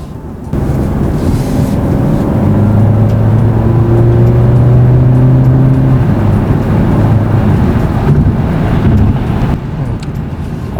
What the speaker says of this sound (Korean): 스포츠 모드로 바꾸고 한번 뭐 배기음을 들어보도록 하겠습니다